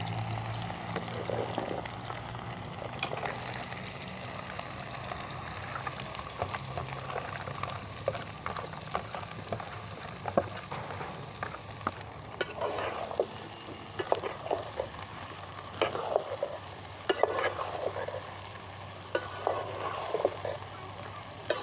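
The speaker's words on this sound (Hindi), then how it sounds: "हमारा ऑयल गर्म हो चुका है, ये देखें आप। हम पहले भिंडी भुनेंगे।" Okra (bhindi) frying in hot oil in a home kitchen, a steady close crackle and bubbling sizzle with occasional louder pops and clatter throughout.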